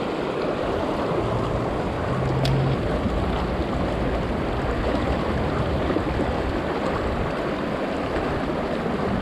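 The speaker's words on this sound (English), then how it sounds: "Here's the rapids" River rapids rushing in a broad, steady roar of churning white water, close and continuous with some wind buffeting, and no voices.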